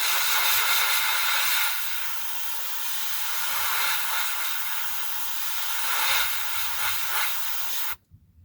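An airbrush sprays paint onto a 1/48 scale Kinetic F-104J Starfighter model kit, a steady close airy hiss that swells slightly in bursts and cuts off abruptly at the end.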